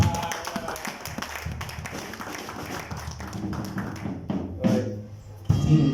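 A church congregation at a Sunday service claps in acclaim of Jesus, a burst of sharp, quick hand claps up front that thins into scattered taps and then softer sounds and voices.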